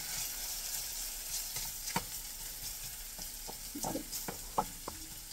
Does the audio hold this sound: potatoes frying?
yes